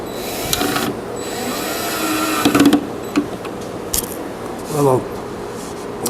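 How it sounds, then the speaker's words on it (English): Hinges and latches go onto a wooden storage box, giving scattered small metallic clicks, taps and short ratcheting bursts at close range, with speech mixed in. "I'm going ahead and putting the hinges and latches on, and that'll make it easier to work on."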